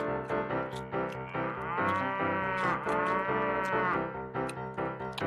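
Cattle mooing loudly and continuously, layered low drawn-out calls from several animals overlapping close by, with no talk.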